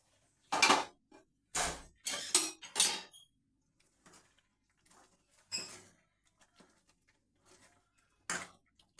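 A metal lid set onto a cooking pot on a low-flame gas stove, several sharp clanks and clinks of metal in quick succession, then a few fainter knocks and one last clatter, close and without talk.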